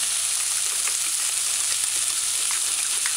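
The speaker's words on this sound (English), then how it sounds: "just gonna stir the thing for a couple seconds" Okra frying in a pot while being stirred gives a loud, continuous bright sizzle up close, with faint scraping from the stirring and no talk.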